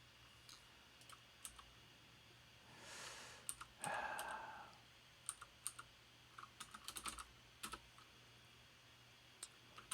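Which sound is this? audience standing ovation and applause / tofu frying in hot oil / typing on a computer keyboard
typing on a computer keyboard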